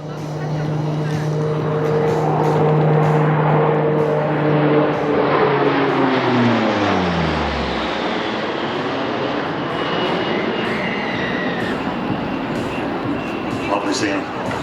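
A Lockheed P-3 Orion turboprop roars past at high speed, its droning engine tone sliding sharply downward as it passes, leaving a loud broad rush that slowly fades.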